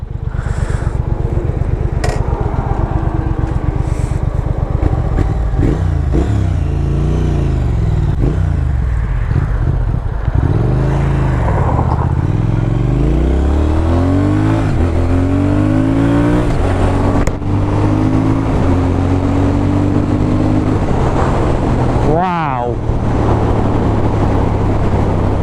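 A Triumph Thruxton R motorcycle engine pulls loud and close, climbing through revs on a ride with gear changes and brief throttle lifts before it builds again.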